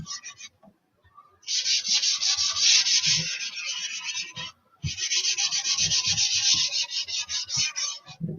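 Two fingers rub over a coloured drawing on paper in two sustained, raspy bursts of close, soft friction, separated by a short pause, with no voice.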